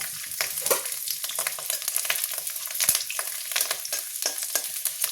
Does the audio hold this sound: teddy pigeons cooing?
no